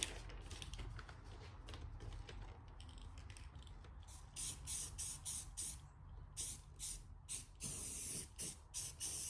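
White paint sprays onto the rotted cowl of a beater Chrysler Cordoba as a hissing aerosol, first softly and continuously, then in a series of short, sharper bursts near the can.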